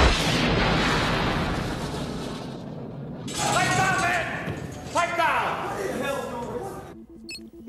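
A harpoon missile launching in a naval video game: a loud, roaring rush that cuts off abruptly, then rumbling bursts with ringing tones, fading to quiet at the end; a voice talks during part of it.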